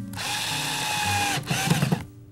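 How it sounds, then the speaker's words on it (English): A self-centering drill runs at a steady whine while boring into a wooden panel leaf of a foldable tool storage unit, then slows into uneven grinding bursts before stopping; close and loud, with no talking. "Gotta love that self-centering drill."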